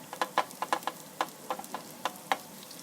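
Chopped onions fry in a pan for a lentil dish, giving faint, scattered crackles and light pops in an irregular rhythm over a soft sizzle, with no talking.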